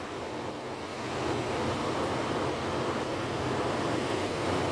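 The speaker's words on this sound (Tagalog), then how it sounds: "Pabugso-bugso yung hangin." Steady, roaring typhoon wind in Macau rushes across the microphone, swelling slightly stronger after the first second and holding a constant, noisy gust.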